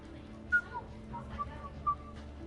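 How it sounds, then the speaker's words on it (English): A character in the video game Mass Effect 3 whistles a few short, bright, tuneful notes, fairly faint against a low ambient hum. "Are you whistling?"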